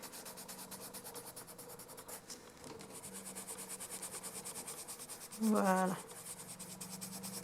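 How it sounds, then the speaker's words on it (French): Derwent Intense colored pencil in Light Olive colored across paper, a soft steady scratching rub running continuously at low level, with a brief spoken word partway through. "je viens colorier le reste de ma zone"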